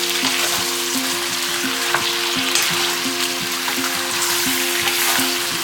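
Three cup chicken frying in a pan with dark soy sauce added, a steady close sizzle with light stirring clicks throughout, no talking.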